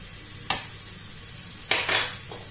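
Hachis parmentier filling of minced meat is stirred and broken up in a pan, with three short scraping clatters of a utensil against the pan over a quiet, faint sizzle and no talking.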